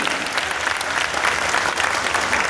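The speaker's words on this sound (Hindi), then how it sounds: "ऊपर हाथ करके डिस्ट्रीब्यूटर्स वाली तालियां" A seminar audience of distributors claps with hands raised, a dense, steady wash of applause filling the room throughout at close range, with no speech over it.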